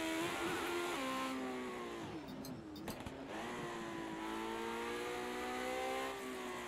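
Race car engine in the Project Cars 2 racing game, a loud sustained drone that drops in pitch, dips briefly, then climbs steadily again as the car accelerates, with no talk over it.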